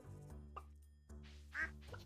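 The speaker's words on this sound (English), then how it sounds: "ducks," Ducks in a video game give three distinct, close quacks spaced across two seconds, with quiet gaps between them.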